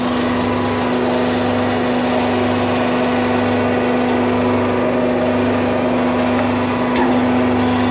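Motor of a 500-ton hydraulic press running steadily, a constant loud hum with a sharp tonal drone, continuous and unchanging, with a brief click near the end.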